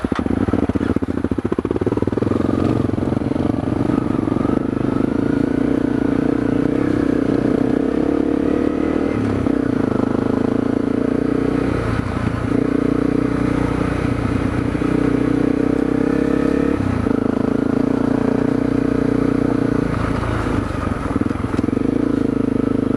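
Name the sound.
Honda CRF250L dual sport motorcycle riding on a grassy trail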